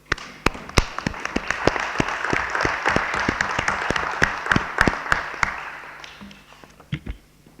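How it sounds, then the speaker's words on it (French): A room of council members and attendees at a municipal council meeting in Yvetot applaud together, a dense patter of claps with a few sharp, close individual claps standing out, thinning toward the end. "je crois qu'on peut applaudir parce que c'est un moment un peu historique"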